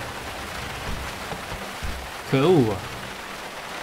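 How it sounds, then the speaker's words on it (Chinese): Steady hiss of rain falling in the video game GTA5 around a wooden cabin, continuous and even throughout, with a man's short exclaimed word near the middle. "把天气调到下雨"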